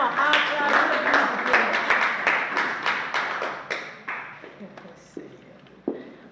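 A church congregation claps in praise to the Lord, loud rhythmic applause near the listener that gradually thins out into a few scattered claps.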